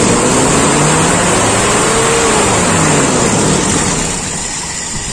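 A Toyota Kijang carbureted engine runs steadily after a carburetor adjustment, a loud, continuous revving drone with shifting pitch, close by, tapering slightly toward the end, with no talk over it.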